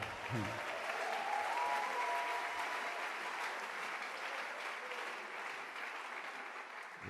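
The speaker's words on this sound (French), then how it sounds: "Acclamons le Seigneur" A church congregation applauds in a steady, dense wash of clapping that holds for the full stretch, with a faint voice underneath.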